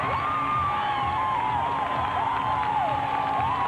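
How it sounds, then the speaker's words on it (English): A Utah arena crowd at a women's college gymnastics championship applauds and cheers after a landing, a dense, continuous wash of clapping and whoops with high tonal whistles on top. "Plenty of applause from the Utah crowd."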